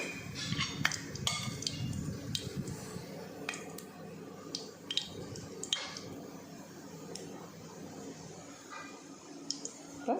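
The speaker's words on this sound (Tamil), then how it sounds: "இப்போ சோம்பு பொரிஞ்சிருச்சு" Fennel seeds splutter and crackle in hot oil in a pan for Karaikudi-style stingray fish curry, with sharp scattered pops and ticks over a low sizzle.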